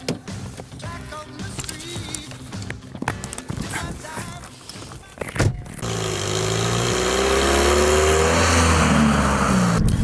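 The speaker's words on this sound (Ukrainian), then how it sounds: "Зараз ми їдемо по дорозі зі Свидівка" A car starts on a road near Svydivok in Ukraine, first with scattered thumps and clatter, then a steady loud rumble of driving road and engine noise building over the second half.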